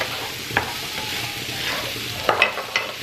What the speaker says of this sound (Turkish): Şimdi güzelce kavrulacak.